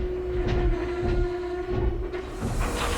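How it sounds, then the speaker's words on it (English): In a Thomas and Friends cartoon, a train arrives and tanker wagons are shunted, rumbling and grinding steadily with a long sustained tone, brief clanks and shifts of heavy wagons, fairly close and continuous. "Finally, his tanker train had arrived and Toad was shunted on."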